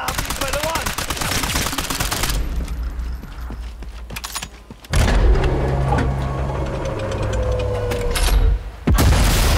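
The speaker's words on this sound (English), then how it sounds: "The gun will blow when it's fired" A sabotaged artillery gun in Sniper Elite 5 blows apart when fired, with loud booming and rumbling bursts, a sudden break, then another sustained roar of heavy blasts and engine-like noise.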